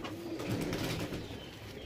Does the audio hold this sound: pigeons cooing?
yes